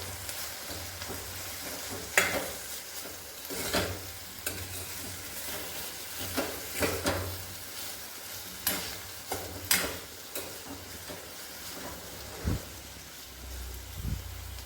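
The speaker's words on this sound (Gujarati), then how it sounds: "હળદર પાવડર અને લાલ મરચું એડ કરીશું અને આપણે પ્રોપર મિક્સ કરી લેવાનું છે" Turmeric powder and red chili are stirred into sambar vegetables in a pan, with irregular scraping and clanking strokes of a spoon over a soft, steady sizzle of frying.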